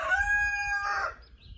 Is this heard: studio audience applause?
no